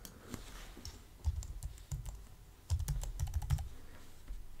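Keys clatter on a computer keyboard as a password is typed, quick close clicks in short irregular bursts with brief pauses, quiet and alone.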